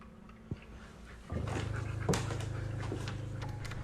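A dog pants quickly and steadily close by, with a brief knock early on and a soft whimper mixed into the breathing.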